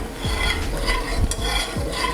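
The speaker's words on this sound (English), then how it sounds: "And then we're going to stir our juice mixture into that" Cherry juice mixture with sugar being stirred in a pot for cobbler sauce, a spoon scraping the bottom in a regular rhythm of about two strokes per second over a soft bubbling hiss.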